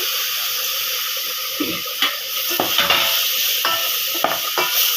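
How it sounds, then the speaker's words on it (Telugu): Tomatoes tossed into frying masala for rasam, a bright close sizzle with several clattering spatula stirs and scrapes against the pan, no talking. "మసాలా వేగింది కదండి, టమాటాలు వేస్తున్నాను"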